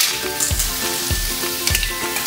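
Snails go into a pan of sizzling golden-brown onion, garlic and ginger: a steady close hiss broken by a few soft, evenly spaced low thuds as they are added and stirred, with no talking.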